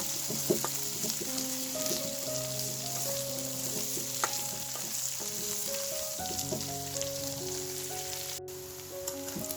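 Onions fry in a pan with a continuous close sizzle and crackle, broken by occasional stirring clinks and scrapes.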